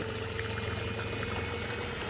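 Water gushes steadily from a pipe fed by a BLDC motor pump during a pressure test after servicing, a loud continuous rushing flow with a constant low hum beneath it.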